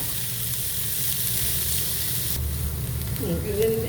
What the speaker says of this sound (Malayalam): അനിയന് ചോപ്പ് ചെയ്തത് ഇടുക